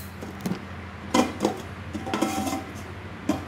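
A glass-lidded metal cooking pot, 15 cm across and 8 cm tall, is handled, giving a few light clanks and knocks at irregular intervals, close and fairly quiet, with no talking.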